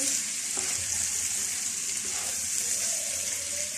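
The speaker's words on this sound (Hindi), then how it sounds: "तमाम दाल को मिक्स कर लेंगे" Cooked urad dal being stirred in a pot, a steady, even bubbling sizzle running throughout with a few soft scrapes of the spoon, close and moderately loud with no talking.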